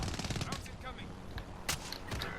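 A sniper's gunfire in a video game cracks out in several sharp shots amid a dense, busy mix of game sounds, with a person talking over it.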